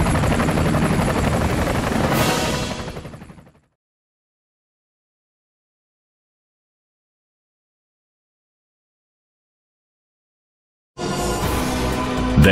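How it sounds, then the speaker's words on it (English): Russian Mi-28NE and Ka-52 combat helicopters give a loud rotor and turbine roar that fades out, then a long silence before the roar abruptly returns. "The Ka-52 Alligator Combat Helicopter represents a new generation of high-tech weapon systems for the 21st century."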